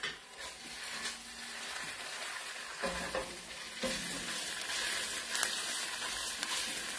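Tomato paste sizzles in a frying pan while Spaghetti Mussels Fra Diavolo is cooked, a steady close frying hiss with occasional scraping clicks of a utensil stirring.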